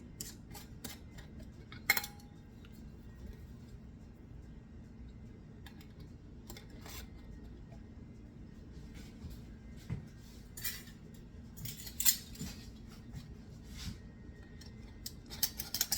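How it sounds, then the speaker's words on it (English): Metal screw bands clink and scrape against glass canning jars of pear preserves as lids are twisted on finger tight, a series of sharp, close clicks and taps spread irregularly over a steady low hum. "So make sure you put the lids on straight on it so the rubber can seal around the rim of the jar"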